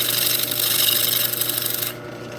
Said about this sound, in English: I'll take my smaller spindle gouge and I'm gonna put a small chamfer on the inside of this and the bottom of it.